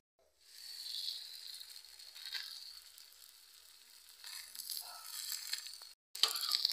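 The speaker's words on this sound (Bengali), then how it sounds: "পরোটাগুলো আমি ভেজে নেব।" Lachha paratha frying in a little oil, a steady soft sizzle with brief louder crackles, cut by a short silence near the end before a sharper burst of sizzling resumes.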